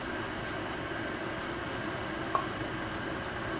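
Potatoes fry in a pan with a continuous, fairly quiet sizzle and crackle, a single brief clink partway through, no voices.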